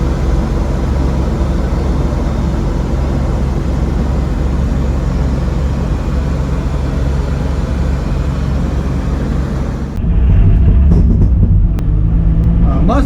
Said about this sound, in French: avec le bruit de la boîte, je peux même pas profiter du son du M54